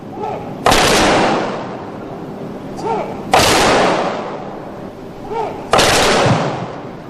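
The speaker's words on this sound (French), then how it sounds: "La cérémonie s'est terminée sur 3 tirs de coups de fusil d'adieu." Three loud rifle volleys of a farewell salute at a military memorial ceremony, evenly spaced a few seconds apart, each a sharp crack with a rolling echo over steady outdoor crowd ambience.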